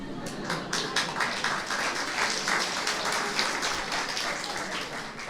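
Audience applause at a Nepali talk on positive thinking: steady, moderately distant clapping from a crowd, sustained at an even level throughout.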